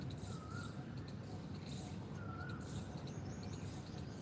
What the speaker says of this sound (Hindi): सुबह के समय कितना सुहाना मौसम, पक्षियों की मधुर आवाज़